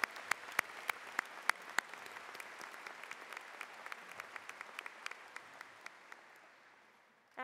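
Audience applause at a university commencement ceremony, a broad wash of many hands clapping with sharp individual claps standing out, fading gradually toward the end.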